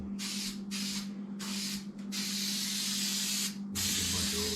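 Coating sprays from an aerosol can onto boat wood and carpet in several close, loud hissing bursts separated by brief gaps, over a low steady hum.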